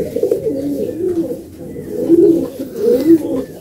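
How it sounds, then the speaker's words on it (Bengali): Closed-tail pigeons cooing close by, several soft repeated coos in an uneven rhythm, with a faint murmur of voices in the background. "একদম পুরো বন্ধ লেজের পায়রা"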